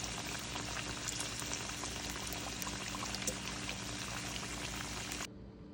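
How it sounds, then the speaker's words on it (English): Vegan empanadas fry in hot oil with a continuous dense bubbling sizzle, steady and close, cutting off abruptly near the end. "So go ahead and fry them for about 1 minute on each side"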